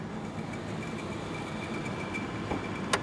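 Steady running of a used Mercedes car engine, an even close-up mechanical hum with a faint high tone on top and a couple of small sharp clicks near the end.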